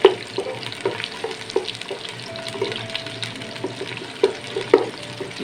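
A medium onion frying gently in a pan, a low sizzle punctuated by rhythmic spatula taps and stirring knocks, close up.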